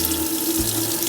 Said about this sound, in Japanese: 混合水栓、お湯が今回出るようになったので